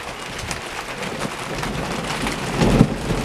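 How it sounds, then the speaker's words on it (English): A thunderstorm: steady rain falls throughout, and a low rumble of thunder swells near the end, with no talking. "we're just having a storm this week"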